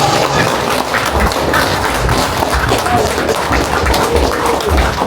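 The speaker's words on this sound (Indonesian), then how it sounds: "Tepuk tangan. Aplaus." Applause from a gathered crowd at a reunion by a seaside pool lounge, a dense, steady roar of clapping that stays loud and continuous throughout.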